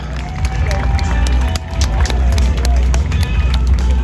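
Drift event crowd at Formula Drift New Jersey, with dense cheering and roaring mixed with a low engine rumble, steady and loud throughout and no clear words.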